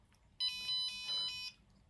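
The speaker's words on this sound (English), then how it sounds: "we should stop the alarm going" A Raspberry Pi Pico temperature sensor project's alarm buzzer sounds a single shrill electronic tone that pulses and wavers for about a second before it cuts off.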